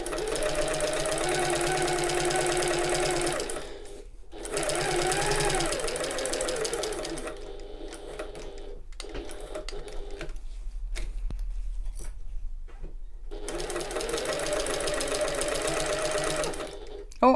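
A sewing machine stitches around the sides of a shoulder bag in loud, rapid bursts, pausing between runs for pivots and adjustments, with quieter handling sounds in the gaps.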